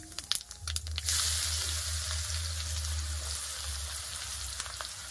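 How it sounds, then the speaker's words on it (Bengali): Chopped onion sizzles hard in hot oil in a kadai, seasoned with a dried red chilli, bay leaf and cumin, after a few clanks of a spoon; a loud, even frying hiss runs steadily to the end. "পেঁয়াজটাকে খুব ভালো করে ভেজে নেবো।"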